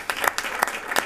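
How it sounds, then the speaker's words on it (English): A small group claps for about a second at a school board meeting, scattered hand claps with no talking. "So round of applause."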